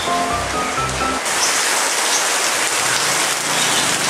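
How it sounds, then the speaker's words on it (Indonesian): Heavy rain pours steadily onto a surface close by, a dense, unbroken hiss that holds at constant loudness throughout, with a faint low hum fading out in the first second. "Fix, hujan lebat."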